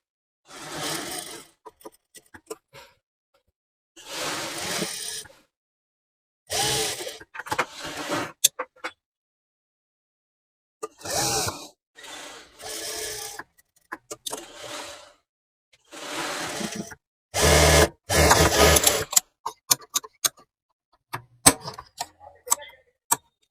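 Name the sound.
sewing machine stitching a kurti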